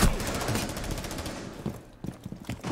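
Automatic gunfire from a Rainbow Six Siege match, dense rattling bursts filling the first half and then thinning into scattered, sharper shots, loud and close.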